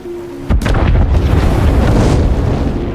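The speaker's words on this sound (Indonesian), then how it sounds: "sumur minyak di kota itu mendadak meledak dengan gaya dramatis, kayak adegan klimaks film Hollywood" In a film scene, an oil well explodes: a sudden deep boom bursts in after a brief quiet hum, followed by a sustained loud rumbling roar like a large blast and fire.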